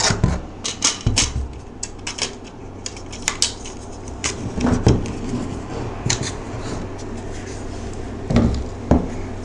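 Hard clatters and knocks as rubber feet are fitted onto a PowerBox 50 unit, a string of sharp close taps and small impacts spread irregularly across the span, with no talking.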